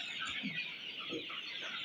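Desi chickens on a poultry farm in winter, with a few faint clucks over low background noise.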